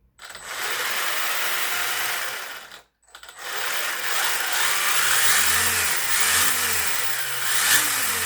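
A Wltoys 144001 RC car motor running on a 2S battery: a close, high electric whine that cuts out briefly, then returns and rises and falls in repeated revving sweeps.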